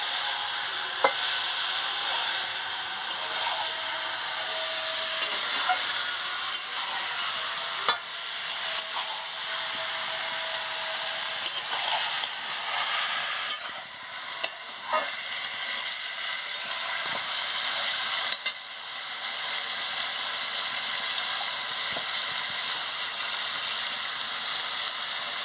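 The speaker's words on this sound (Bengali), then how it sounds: "ভালো করে একটু কষিয়ে নিচ্ছি" Meat fried in spice paste with elephant yam sizzles steadily in a pot for a long stretch, with occasional spoon stirs and scrapes, close and continuous with no talking.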